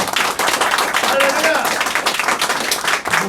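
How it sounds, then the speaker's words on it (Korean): Church congregation at a presbytery elders' prayer breakfast giving a warm round of applause for a pastor, dense steady clapping throughout the short stretch, fairly loud and close. "우리 저 남 목사님에서 다시 한번 좀 뜨거운 박수를 격려해 주십시오"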